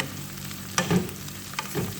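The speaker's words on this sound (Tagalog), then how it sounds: "Prito ko yung manok." Chopped chicken sizzles in a hot pan with soft crackling and a few sharper pops and spatters, fairly quiet and steady.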